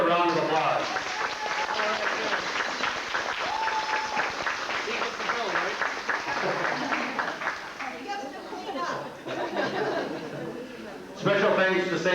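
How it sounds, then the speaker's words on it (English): Guests at a Greek Orthodox 90th birthday party applauding Peg, with sustained clapping mixed with chatter and some laughter, then a louder burst of applause near the end. "Let's give her a round of applause."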